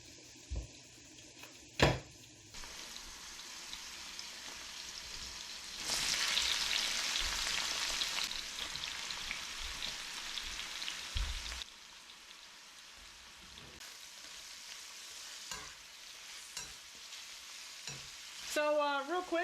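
Mushrooms and seitan fry in a pan, a soft crackling sizzle that swells loudly when they are tossed in, with occasional clacks of stirring and utensil knocks throughout.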